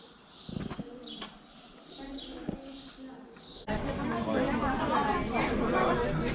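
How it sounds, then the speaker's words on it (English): Birds chirp and coo in a reverberant space near Elafonisi Beach, Crete, then a burst of louder noise from a tour bus crowd takes over partway through. "Yeah, these are definitely birds."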